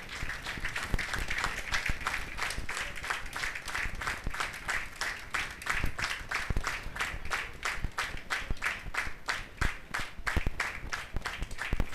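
Steady applause from a crowd at an event honouring children and leaders rolls on for several seconds, dense and even, a little distant, with sharper claps standing out now and then.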